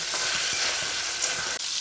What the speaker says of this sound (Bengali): আর এই যে মাছ ভাজা বসিয়ে দিয়েছি